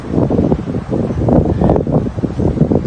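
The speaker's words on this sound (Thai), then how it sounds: "อากาศเย็นลมแห้งย่างขึ้นมาจากตีนภูสะเหลา" Cool, dry wind blowing up from the foot of Phu Salao mountain near Pakse in southern Laos, a steady, loud rushing gust buffeting the microphone with rustling throughout and no speech.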